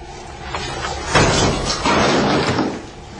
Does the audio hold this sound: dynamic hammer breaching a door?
yes